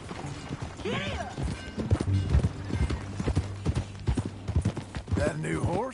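Horse hooves clip-clopping in a steady rhythm of close hoofbeats, with a horse whinnying briefly at the start and again near the end, and people talking over the top.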